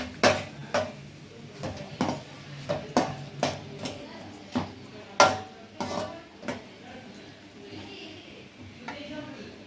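Two eggs being stirred in a pan for chapati noodles, a series of sharp spoon-on-pan taps and scrapes in an uneven rhythm, fairly close, with no voices.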